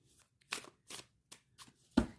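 A Lucid Dreams tarot deck is shuffled in five separate soft riffling bursts, each brief and evenly spaced, close and quiet with no voices.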